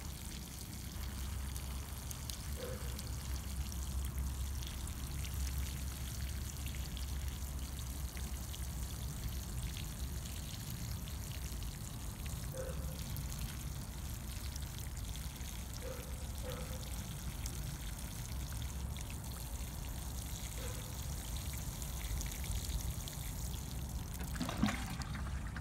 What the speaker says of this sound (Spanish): Recuerden regar hasta que el agua salga limpia por debajo de los orificios.